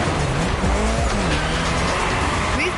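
Lancer Evo 6 drifting at an airport in a video game: loud engine revving with rising and falling pitch under continuous, close tire squeal as the car slides.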